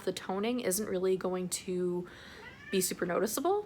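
A pet cat meows repeatedly in short, close calls, mixed in with someone talking at home.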